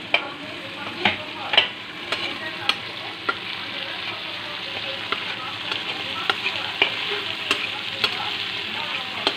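Chilies and kalonji fry with mustard paste in a pan over a medium gas flame, a steady close sizzle broken by regular scraping stirs, with no voices.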